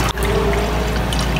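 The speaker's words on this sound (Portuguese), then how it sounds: "Agora, você acrescenta água até encher aí a garrafa PET." Water pours steadily into a PET bottle holding homemade organic fertilizer, a close, continuous gurgling stream with no talk.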